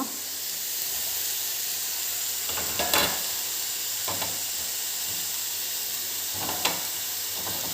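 A quiet, steady sizzle of chopped onions frying in hot oil, broken by a few soft scraping stirs at irregular intervals.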